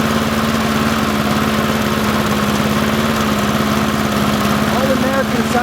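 A Briggs & Stratton 6.5 OHC lawnmower engine runs steadily nearby, a loud, even, throbbing drone with constant vibration, while someone talks over it.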